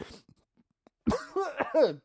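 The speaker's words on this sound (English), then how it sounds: "Sorry, I swallowed a cough." After a few faint clicks and breaths, a close, rough cough breaks out in several quick hacking bursts, ending in a strained, throaty rasp.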